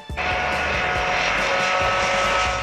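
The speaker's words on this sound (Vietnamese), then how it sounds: "Máy bay dân dụng này của hãng British Airways, phương tiện này cần đường bay và nhà ga để phục vụ hành khách." A British Airways passenger airliner flies over in London, a loud, steady engine roar with a sustained whining tone that holds evenly through the whole stretch.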